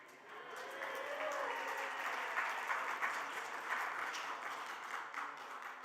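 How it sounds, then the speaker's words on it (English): An audience at a convention session applauds: steady, moderately distant clapping from a crowd that starts up and holds evenly for several seconds without talk. "They applauded."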